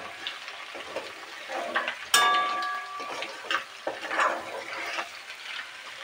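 Homemade ghee bubbling and sizzling in a pan on the stove, irregular soft crackles and pops with a sharp metallic clink of a spoon against the pan partway through.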